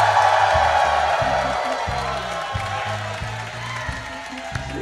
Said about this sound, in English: So why don't you give them a cheer here?